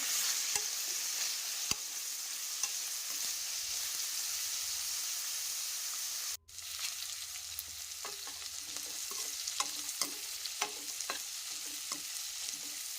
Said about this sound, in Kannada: ಈಗ ಇದಕ್ಕೆ ಬಟಾಣಿ ಹಾಕ್ಕೊಳ್ತೇನೆ. ಇದನ್ನು ಕಲಿಸ್ಕೊಳ್ಳೋಣ, ಬೇಯಿಸ್ಕೋಬೇಕು ಇದನ್ನು.